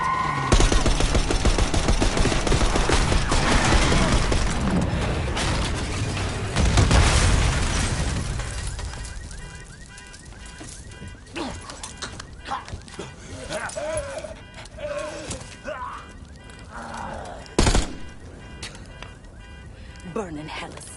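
Bursts of gunfire and explosions from a street ambush on a limo in a Black Ops 6 campaign mission, loud and dense for the first several seconds, then sparser shots and a sharp blast near the end, with shouting voices throughout.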